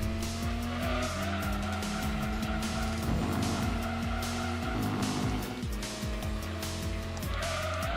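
Toyota Supra and Nissan Skyline race cars lapping Laguna Seca in Gran Turismo 2, with steady engine drone and shifting revs, gear changes and tire squeal over the full stretch without pause.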